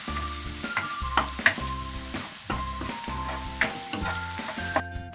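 Chopped onion, ginger, green chili and curry leaves sizzle and fry in hot oil for a soya bean curry, a continuous close crackling hiss with frequent scraping stirs and no talk.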